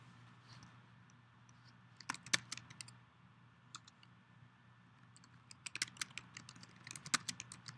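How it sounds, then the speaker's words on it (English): A computer keyboard being typed on, with scattered clusters of sharp, close key clicks separated by short quiet gaps over a low steady hum. "I'm just going to type in something here that explains the failure that we are making up."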